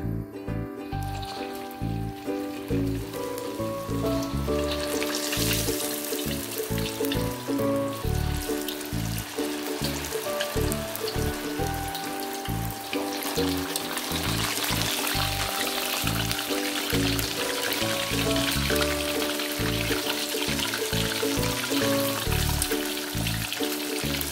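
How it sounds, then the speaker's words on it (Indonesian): Fishless pempek dos fry in very hot oil, a dense, steady crackling sizzle like rain on a surface that continues without pause under a low background hum. "Kita masukin pempeknya pas minyaknya betul-betul panas. Oke, bismillah kita goreng dulu ya."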